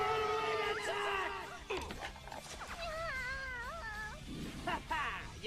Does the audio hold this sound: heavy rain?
no